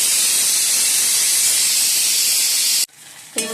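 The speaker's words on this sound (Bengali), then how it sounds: "থোর কেটে প্রেসারে বসিয়ে দিচ্ছি" A pressure cooker with chopped banana stem inside lets out a loud, steady, close jet of hissing steam for about three seconds. The hiss then stops abruptly and a faint clatter follows.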